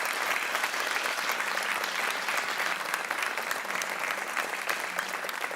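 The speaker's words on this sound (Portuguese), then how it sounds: "Um grande aplauso para os Doors e para Jim Morrison." Studio audience on a TV quiz show applauding the Doors and Jim Morrison after a rendition of Light My Fire, a continuous dense wave of clapping filling the whole stretch.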